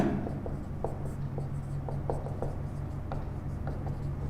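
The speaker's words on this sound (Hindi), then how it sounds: "लिख देता हूं मैं।" A pen or marker writing a word on a board during a vocabulary lesson, with short scratchy strokes and taps close by over a steady low hum, no talking.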